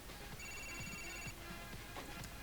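A telephone rings in Grand Theft Auto IV, its bright electronic trill sounding in two bursts over a steady background of game noise, with no talking.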